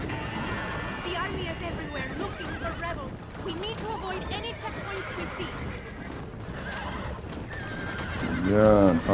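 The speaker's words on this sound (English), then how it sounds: "The horse keeps running out of fucking stamina!" In Red Dead Redemption, a horse whinnies repeatedly over galloping hoofbeats, close and fairly loud, while a player talks excitedly over the game sounds.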